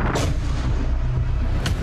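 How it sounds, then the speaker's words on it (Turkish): Heavy Turkish naval guns fire at targets in the Aegean in deep, booming blasts that roll on and on, with another sharp report near the end. "Denizde seyreden gemilerden de hedefler top atışıyla vuruldu."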